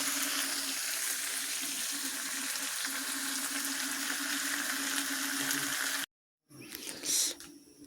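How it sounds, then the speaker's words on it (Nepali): Steady, close sizzling of local chicken frying in hot oil in a pan, running evenly for several seconds before cutting off, followed by brief clattering. "आज लोकल कुखुरा पाक्दैछ"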